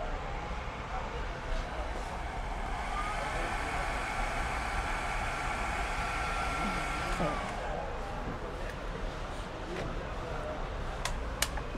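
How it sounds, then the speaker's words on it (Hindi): A Geepas hair dryer runs with a steady, loud blowing whoosh that holds for the whole stretch, with slight shifts in pitch and a few faint clicks near the end. "यहाँ पे जो है मुझे जिपास का हेयर ड्रायर मिला"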